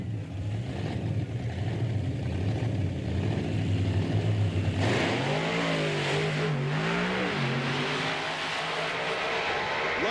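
Monster truck engines rumble at the start of a 1995 PENDA Monster Truck Challenge race in Springfield, Missouri, idling steadily before surging into loud, rising revs about halfway through, without any talking.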